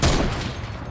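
A quick burst of gunfire in Fortnite, fired at a wall, starts with a loud punchy blast and trails into a dense rumbling rattle over about a second.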